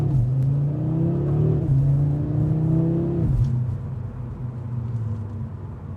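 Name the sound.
2026 Audi RS3 inline 5-cylinder accelerating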